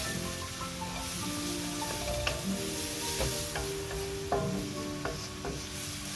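Vegetables sweat in a pan for a salmon quiche, giving a steady soft sizzle with occasional scraping stirs and light clinks of a utensil against the pan, close and continuous without speech.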